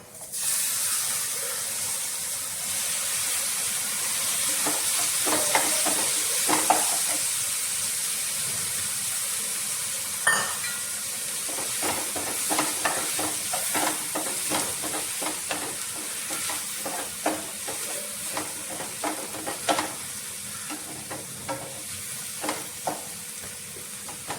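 Chopped tomatoes go into a pan of fried onions for shahi paneer and sizzle steadily, a constant close hiss broken by scattered clicks and scrapes of stirring.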